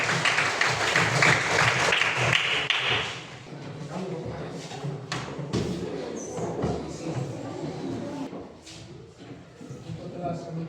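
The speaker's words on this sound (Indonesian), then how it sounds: "kita tepuk tangan dulu untuk itu" A class of primary school pupils claps hands together in a sustained burst of noisy applause lasting about three seconds, then fades into classroom chatter and a teacher's voice.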